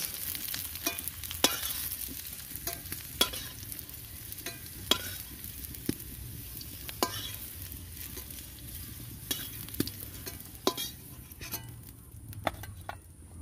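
Vegetable stalks frying lightly in hot oil in a home kitchen, with a steady sizzle broken by repeated stirring scrapes and clicks, heard close and alone.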